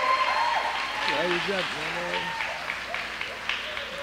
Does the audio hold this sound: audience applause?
yes